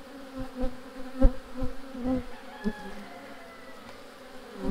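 Bees buzz around an open hive during an inspection of the second brood chamber, a soft hum broken by a few louder knocks and handling bumps, with no speech.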